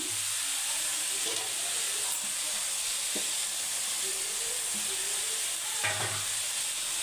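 Sliced onions frying lightly in a pan for egg biryani, a steady soft sizzle and hiss with occasional stirring scrapes, fairly quiet throughout.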